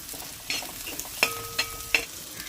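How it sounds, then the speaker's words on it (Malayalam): A kadukka (seafood) fry roast is stirred in a hot pan over a faint, steady sizzle, with several sharp spoon-against-pan scrapes and knocks at irregular intervals, close by and without talk. "ഇടക്കിടക്കൊക്കെ ഒന്നും കൂടി ഇളക്കി കൊടുക്കുക"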